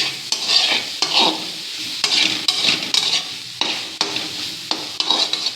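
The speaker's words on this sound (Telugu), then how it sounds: "ముక్కలు ఎంతవరకు ఫ్రై అయ్యాయో చూద్దామండి" Capsicum pieces frying in a pan for a sambar, loud close sizzling broken by repeated scraping stirs that come in regular bursts about every half second to second.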